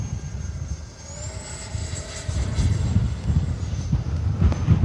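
A FlyFans L-39 64mm RC jet in olive camo flies past on a windy day, its ducted-fan whine rising and swelling as it nears over heavy wind rumble.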